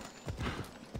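Horse hooves clip-clopping in an action video game, a short burst of several quick, fairly close hoof strikes in an uneven rhythm.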